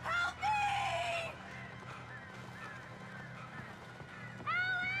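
Birds attacking in Alan Wake Remastered screech loudly, with a harsh, falling cry at the start and another at the end, and quieter scuffling and in-game noise between them.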